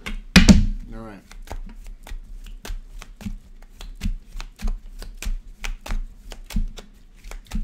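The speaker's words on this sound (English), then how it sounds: "One more shuffle." Tarot cards are shuffled by hand in quick, close riffles and taps, a sharp clatter near the start followed by a regular series of crisp card snaps and soft thumps, with no voice over it.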